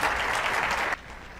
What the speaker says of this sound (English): Let's give Jason a round of applause.